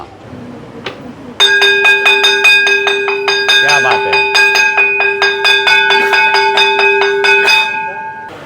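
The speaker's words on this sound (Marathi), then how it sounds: "आता तुम्हाला मी शाळेची घंटा दाखवतो" A school bell, part of a school-themed Ganpati decoration, rings in rapid, steady, bright metallic strikes for about six seconds, loud and close, with a short spoken exclamation just before it starts.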